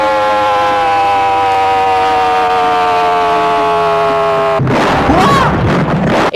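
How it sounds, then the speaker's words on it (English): Official Iranian emergency alert siren from a propaganda broadcast, a loud sustained wail with slowly falling pitch, then cut off by a burst of roaring explosion-like noise near the end. "This is an official government EAS alarm though."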